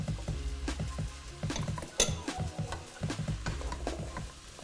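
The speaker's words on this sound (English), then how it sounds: "Give that a stir." Celery and carrots are being stirred into a lamb stew in a pot, giving a steady rhythm of scraping, clattering strokes with brief louder knocks against the side.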